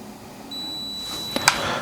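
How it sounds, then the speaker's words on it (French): A steady high electronic tone from a G&G ARP556 airsoft rifle starts partway through, followed by a short sharp beep burst near the end, close and moderately loud. "on attend 10 secondes, jusqu'à avoir le bip"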